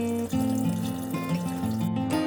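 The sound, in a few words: hot water rinsing away bleach from a drain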